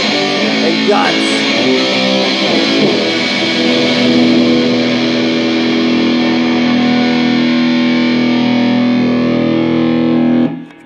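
Electric guitar driven through a DOD Death Metal distortion pedal rings out in a thick, heavily saturated chord that sustains for several seconds and then cuts off abruptly at the end, loud and close.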